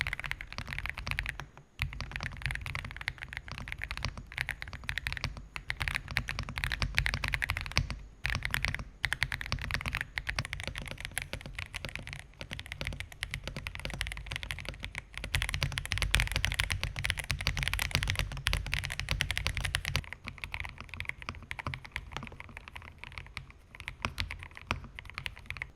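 Three 75% mechanical keyboards — an Ajazz AK820 Max Plus, an Aula F75 and a Kreo Swarm — are typed on in steady rapid bursts of close clacking keystrokes, with a few short pauses between runs.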